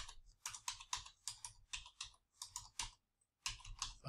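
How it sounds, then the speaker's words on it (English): Quiet rhythmic keystrokes on a computer keyboard, a steady run of soft clicks in irregular bursts with one brief pause near the end, close and unaccompanied by speech. "I'm going to type in"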